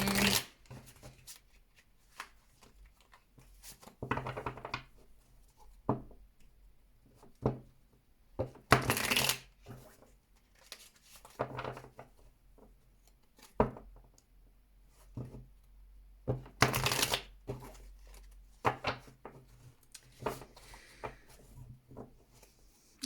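Tarot cards are shuffled by hand in quiet, intermittent bursts of riffling and slapping, with soft shuffles between louder flurries spread over a long stretch.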